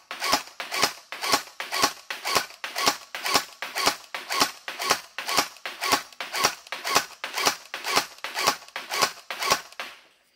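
An MST AK74U gel blaster fires on semi-auto in a quick, steady string of about twenty sharp, close cracks, evenly spaced and with nothing else heard between shots.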